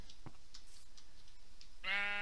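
Sheep in Minecraft bleat in a wavering burst near the end of the clip, preceded by soft game ambience and faint clicks.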